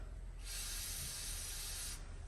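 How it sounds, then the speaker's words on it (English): Penetrating spray hisses from an aerosol can onto a tight bolt during a water pump job on a Valiant VH Charger, one steady, close hiss lasting about a second and a half. "So I will spray that down."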